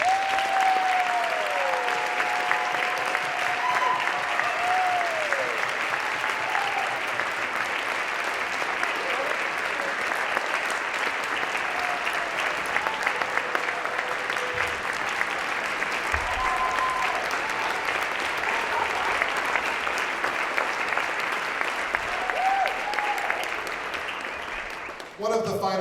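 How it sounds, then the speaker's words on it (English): Sustained audience applause fills a concert hall for about 25 seconds, steady and dense throughout, with a few whistles and cheers rising above the clapping before it tapers off at the very end. "Please join me in giving them a round of applause"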